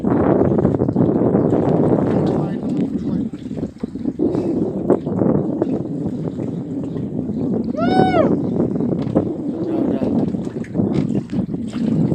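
Strong wind roars steadily at sea during jigging off Lhokseumawe, Aceh, buffeting the microphone throughout while people talk over it and a brief electronic chirp sounds midway.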